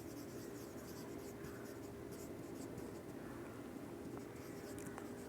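Accounting entries written by hand in an accounting lesson: steady, faint scratching of pen on paper against a constant low room hum, with no break.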